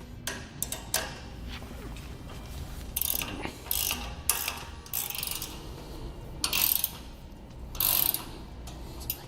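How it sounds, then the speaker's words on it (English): A ratchet clicks in short, uneven bursts while tightening the U-bolts on a Malone LowBed MicroSport trailer axle, each run of sharp pawl clicks separated by brief resets. "we're going to go back and tighten down the U-bolts to our plate"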